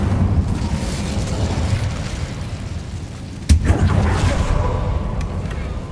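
The Incendio fire spell in Hogwarts Legacy goes off as a loud, deep blast over a rumbling game soundscape, with one sharp burst midway and then a roaring fiery swell that slowly fades.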